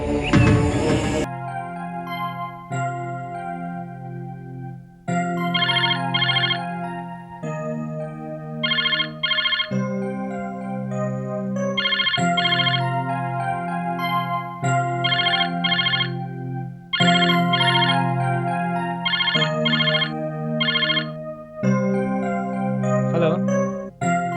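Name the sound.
phone ringing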